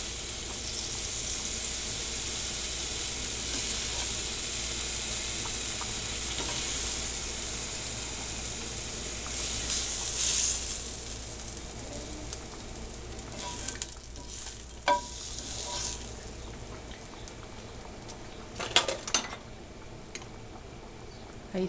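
Pork chops go into a boiling morita chile sauce in a pan, giving a steady, close bubbling sizzle throughout with faint scattered clicks and stirring noises toward the end.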